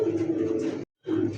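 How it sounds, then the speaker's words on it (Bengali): A pair of Archangel pigeons kept with their chicks gives two soft, low coos close by, separated by a brief silent gap. "আর্চেঞ্জেলের একটা জোড়া কবুতর আছে, বাচ্চা আছে সাথে"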